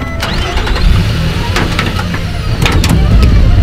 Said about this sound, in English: Start the car, Prufrock!